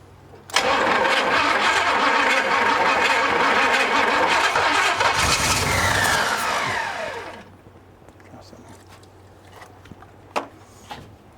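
An abandoned race car engine cranks and fires, turning over loudly at close range before catching into a roaring idle for several seconds, then cutting off into near quiet broken by a few small clicks.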